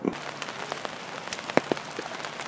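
Rain falling on a Wednesday afternoon around a backyard chicken coop, a steady close patter of drops striking surfaces with scattered sharper ticks, continuous for a couple of seconds with no talking.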